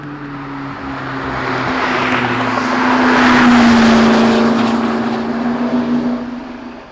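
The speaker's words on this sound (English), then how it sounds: "right now there's a 720S and a P1 out on the track" A McLaren 720S and a McLaren P1 roar past on a race track at Sebring International Raceway, engines swelling from a distance to a loud close pass with rising and falling pitch, then fading away.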